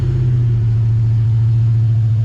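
A Mustang's engine drones steadily at a deep, loud, constant pitch, rumbling without letup as the car is pushed hard.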